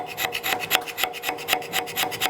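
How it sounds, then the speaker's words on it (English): Hand scraper rasping over the cast iron cross slide dovetail of a Monarch lathe, a steady series of short, bright scraping strokes roughly every quarter second, close and fairly loud, with no voices. "I may have to scrape off that leading edge."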